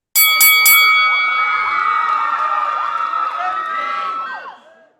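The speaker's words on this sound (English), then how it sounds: "Ring the fucking bell." A wrestling bell rings for a podcast's wrestling segment, struck three times in quick succession, its bright metallic tone then ringing out loudly and fading over several seconds as faint cheering mixes in.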